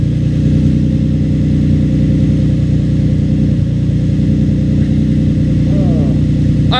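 A Nissan 350Z with no muffler or resonators, exhausting straight out of the cats, runs loud and close with a steady raw drone, slight revving and a faint lifter tick. A voice speaks briefly near the end.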